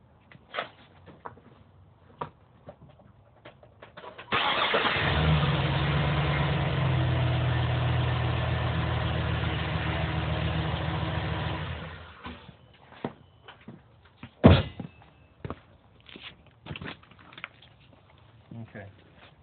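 A 2009 Chevy 3500 HD truck engine cranks and catches, then runs at a steady, loud idle for several seconds before cutting off, with workshop clatter and a sharp knock afterward.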